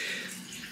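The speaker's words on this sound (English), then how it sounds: "I have warm water warming up in the background." Warm water runs from a tap into a basin, a soft continuous hiss and splash heard briefly and faintly in the background.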